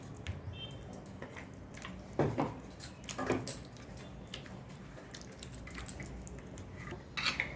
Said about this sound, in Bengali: ভালো করে মাখাও, একদম প্রত্যেকটা মাছের গায়ে যাতে মশলা পড়ে।